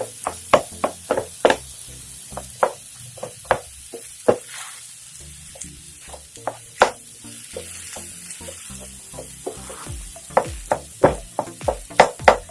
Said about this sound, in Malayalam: നമ്മൾ തവി കൊണ്ട് ഇങ്ങനെ കുഴച്ചാൽ തന്നെ നന്നായിട്ട് കുഴഞ്ഞു കിട്ടും